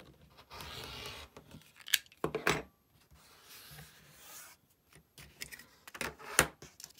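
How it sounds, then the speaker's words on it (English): Add-a-quarter ruler guiding a quilt fabric trim for a pinwheel block: scissors or cutter strokes come as several short, crisp bursts, close and fairly quiet, with soft handling and rubbing in between and no speech. "use my 1/4 inch seam allowance ruler, my add a quarter ruler, to trim all the excess fabric off"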